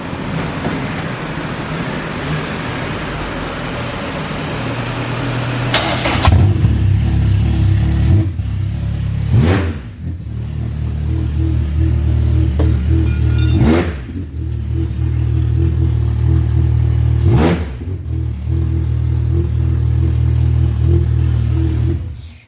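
A loud K-swapped 1996-2000 Honda Civic EK engine rumbles and idles roughly, punctuated by several sharp revs that rise and fall, close and continuous.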